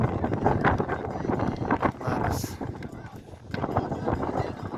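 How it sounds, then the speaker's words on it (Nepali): Strong wind buffets the microphone on a hilltop ridge in gusty, uneven bursts that rise and fall, with a voice speaking intermittently through the blustery roar. "अब हेर्नुहोस् न यहाँ डाँडामा अब हावा कत्रो"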